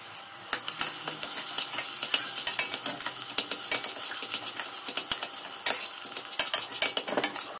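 A utensil scrapes and clinks steadily in a pan as spinach is stirred into fried onions, the food sizzling underneath, a busy, close stirring sound without pauses.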